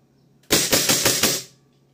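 A WE G17 Gen 3 airsoft pistol fires BBs in a rapid burst of about five sharp, loud, close-up snaps, all within a second, then goes quiet.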